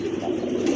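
A pair of Lahori pigeons, red bar silver, give a short, close, low cooing call, warm and throaty, heard alone.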